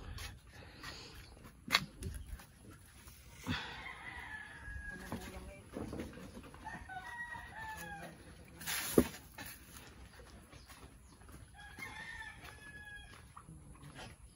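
Chickens cluck and a rooster crows on a pig farm, the calls scattered and moderately distant over steady outdoor background noise, with a dog and other farm sounds now and then.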